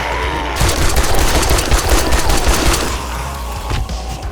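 Heavy gunfire in the zombie survival video game 7 Days to Die, a loud close fusillade of rapid shots that bursts in after a brief lead-in and continues for several seconds before easing off.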